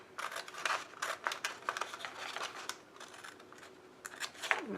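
Scissors snip through card while a bouquet greeting card is being trimmed by hand, giving a run of crisp, close cuts in an uneven rhythm at a moderate level with no talk.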